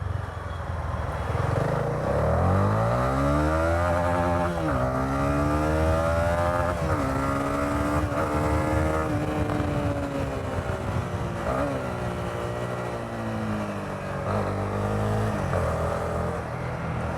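A Honda motorcycle being ridden, its engine rising and falling through repeated accelerations and gear changes, loud and close with steady wind rush and no talking.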